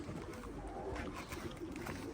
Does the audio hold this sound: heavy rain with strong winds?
no